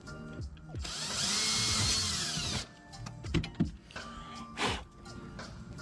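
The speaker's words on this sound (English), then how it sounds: "I had to drill new mounting points to the trailer." A power drill bores new mounting holes into a trailer, a loud whirring burst lasting a couple of seconds, followed by clanks and handling noises nearby.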